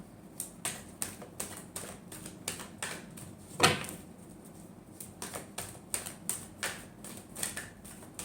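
Tarot cards are shuffled in rapid, irregular clicking and riffling bursts close by, with one sharper slap partway through.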